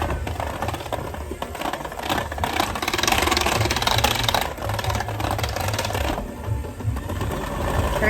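An electric hand mixer whirs steadily through vanilla cake batter, a loud close motor drone with slight rattling that rises in speed partway through, no talking.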